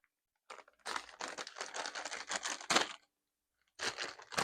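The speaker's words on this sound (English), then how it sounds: "Let's cut open a corner of this bag with the scissors." Scissors cutting open a corner of a snack bag: quiet bursts of crinkly plastic crackling and snipping, a long run of rustles, a pause, then another short crinkle, close and faint.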